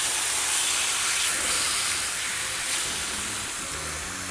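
Seasoned flap steak with onions, chilies and peppers sizzles on a Camp Chef griddle, an even, bright hiss that stays steady for a few seconds with no talk.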